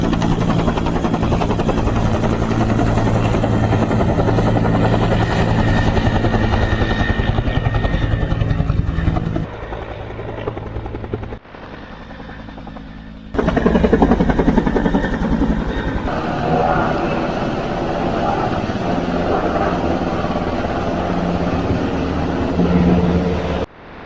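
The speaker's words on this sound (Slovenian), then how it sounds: "non-stop helikopter do helikopterja" Firefighting helicopters ferrying water for fires in the Kras region, a loud close rotor thrum and engine whine that dips briefly midway, then swells again as another passes overhead.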